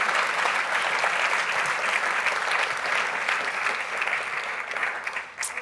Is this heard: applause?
yes